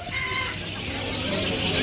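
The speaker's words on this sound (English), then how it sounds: "Look at all these birds" Chickens cluck in a busy crowd at a market amid continuous bustle and background chatter, the clucking blended into the dense noise.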